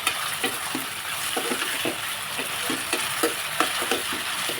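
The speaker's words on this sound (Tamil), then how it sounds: "நல்லா பொன்னிறமாக கோல்டன் ப்ரௌன் கலர் வந்தால் தான் இஞ்சி பூண்டு பேஸ்ட் போடணும். அது வரைக்கும் நல்லா வதங்கணும்." Onions sautéing in a pan until golden brown, a steady oil sizzle broken by repeated soft scraping stir strokes, close and moderately loud with no talking.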